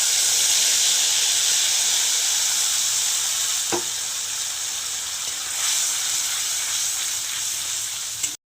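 Ground paste of ginger, tomato, radhuni, dried chilli and bay leaf hitting hot oil left from frying bhola fish, a loud steady sizzle and hiss with a brief stir partway through.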